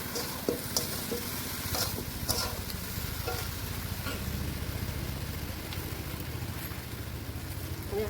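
Jujube chutney cooking in a hot pan over a wood-fired rooftop stove, a steady broad sizzle and hiss with a few soft stirring knocks near the start, continuous and fairly quiet.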